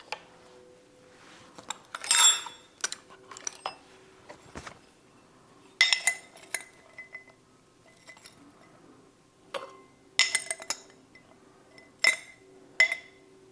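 Tablespoons of dried onion knocked into a row of glass jars, with sharp glassy clinks and spoon taps landing in scattered bursts, close and alone with no talk.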